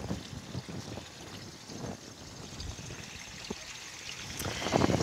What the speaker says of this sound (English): And then this is the water feature.